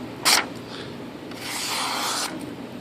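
A metal knife blade drags across a rough surface in two rasping strokes, a short sharp scrape followed by a longer, steadier one, close up with no voices.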